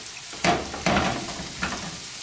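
Sliced garlic hitting a hot pan for crab chowder, with a steady sizzle that jumps in two sharp bursts as the slices go in, then settles to a continuous fry with one more stir-flare, close and clear with no talk.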